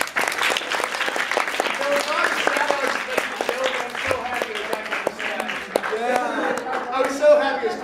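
Audience applause at a fan convention horror-story panel: dense, steady clapping from a crowd that holds for the whole stretch at an even level, with some voices and cheers mixed in.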